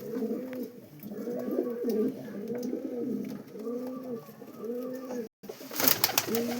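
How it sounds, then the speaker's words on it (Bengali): A pair of pigeons coos in steady repeated phrases, close and clear, with a brief dropout near the end before a burst of broadband noise. "আর এক জোড়া পায়রা দেখুন,"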